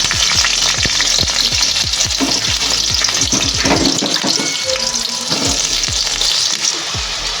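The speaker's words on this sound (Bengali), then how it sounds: "এবার ভেজে নেব নুন হলুদ। কড়াইতে সর্ষের তেল গরম হয়ে গেছে" Brinjal slices frying in hot mustard oil with salt and turmeric in a kadai, giving a loud, steady sizzle with repeated clinks and scrapes of stirring throughout.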